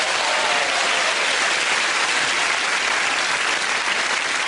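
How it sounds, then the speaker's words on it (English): A studio audience at a British TV quiz show applauds in a thick, even roar of clapping that holds at full level throughout. "and they're applauding"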